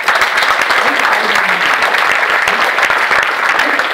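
A crowd claps steadily and loudly at a business venue meeting in Mumbai, a dense, continuous wash of applause with no break.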